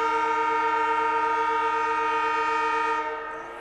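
A long, loud, steady stadium siren blast at a 1990 Australian football match holds a rich chord-like tone for about three seconds, then fades out; no talking.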